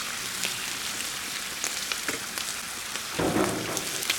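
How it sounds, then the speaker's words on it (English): Bacon frying in a hot pan at home, a steady crackling sizzle with scattered pops and a brief louder burst of spitting near the end. "that bacon, should it stay there and cook a little bit more"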